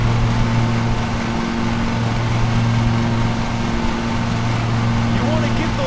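A lawn mower engine in Lawn Mowing Simulator drones steadily and loudly with a constant low hum throughout, under ongoing talk.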